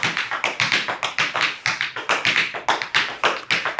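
Rapid, even tap dance paddle rolls, crisp shoe taps clattering in a fast continuous rhythm, close and clear with no voices.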